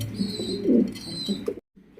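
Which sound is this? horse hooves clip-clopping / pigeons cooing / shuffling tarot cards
pigeons cooing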